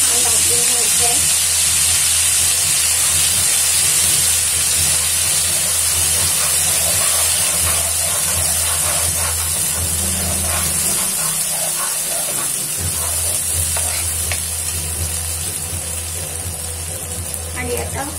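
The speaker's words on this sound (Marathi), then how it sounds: "हा छान भाजून घ्यायचा आहे." Masala spice mix roasting and being stirred in a pan with asafoetida, a steady loud hiss and sizzle running throughout with faint scraping, while a voice talks over it.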